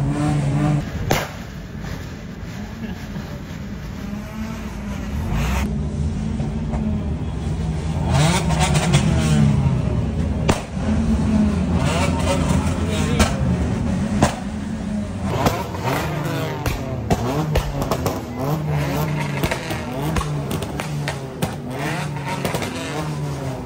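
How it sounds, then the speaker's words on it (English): Cars and motorbikes rev their engines at a college auto show in Kundapur, with repeated rising and falling engine bursts, throttle blips and crowd noise layered over a continuous rumble. "We have some insane bikers, insane cars, all revving up their engines."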